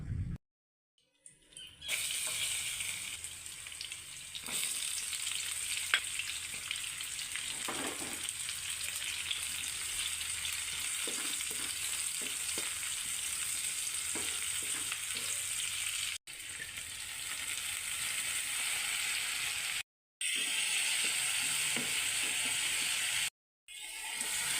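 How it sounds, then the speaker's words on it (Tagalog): Sliced pork sizzles steadily in a hot pan while being sautéed for soy-sauce adobo, a continuous frying hiss with occasional stirring scrapes and brief breaks, fairly quiet and with no talking. "ngayong tanghali lang po ito gigisahin at lulutuin ng adobong toyo"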